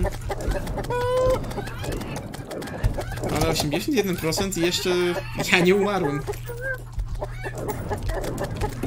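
Chickens cluck repeatedly in the Terraria video game, in short bursts mixed with other game sounds while someone talks over them.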